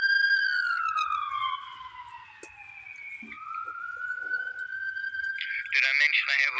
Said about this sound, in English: I'm not sure if you can hear that siren in the background